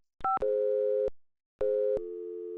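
A failed phone call in the video game Phantasmagoria 2: a short dialing chirp, then two long, loud electronic busy-type tones separated by a brief gap, clean and alone with no talk.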